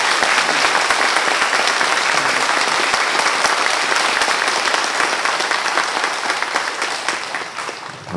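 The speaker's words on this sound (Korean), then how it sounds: "우리 목사님께 박수를 보내주시기 바랍니다." A church congregation at a Sunday service applauding the pastor, a dense, sustained round of clapping from many hands that fills the room and fades slightly toward the end.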